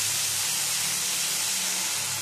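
Water splashed into a hot pan of ginger for a vegetarian shukto dal gives off a steady, close hiss of steam and sizzle that holds evenly for a couple of seconds with no talking.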